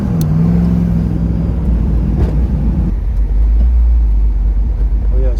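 A V8-swapped Mazda Miata idles low and loud, a deep steady rumble close by that fills the whole stretch, with faint voices over it.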